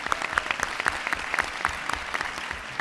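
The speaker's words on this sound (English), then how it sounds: "So please, a round of applause for them." Audience at a charity challenge finals event applauds, with steady, dense clapping from a sizeable crowd in a hall, even in level throughout and with no talk over it.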